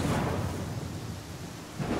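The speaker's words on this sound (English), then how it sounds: "thunder and lightning." Thunder rumbles with steady rain in the fantasy video game Pathfinder: Kingmaker, a loud continuous low roll that swells again near the end, with no voices.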